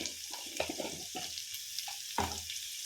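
Salt and turmeric stirred into rice frying in a pan, giving a few scraping stirs and soft sizzling over a low hiss, with a sharper scrape near the end.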